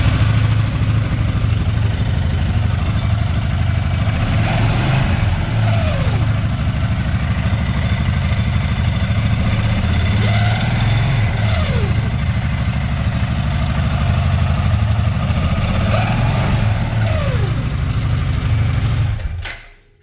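A Can-Am XMR700 engine runs steadily while its CVT primary clutch squeezes the belt, a loud continuous low drone with periodic rising whines, then cuts off abruptly at the end.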